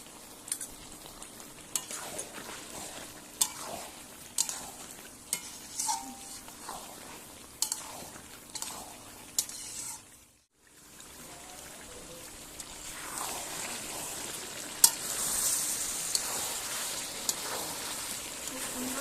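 Chicken for gondhoraj lime chicken sizzling in a pan while a spoon scrapes through it in regular strokes, close and steady, after a brief pause the frying hiss grows fuller and louder.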